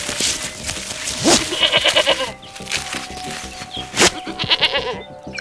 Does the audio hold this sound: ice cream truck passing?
no